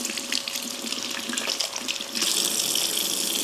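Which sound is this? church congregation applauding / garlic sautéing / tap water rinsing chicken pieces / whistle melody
tap water rinsing chicken pieces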